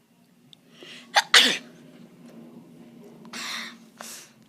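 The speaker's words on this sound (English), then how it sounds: "So, I think I got to sneeze." A single person sneezes close by, with a sharp sniffing intake and two bursts, then some faint breathing afterward, with no talk over it.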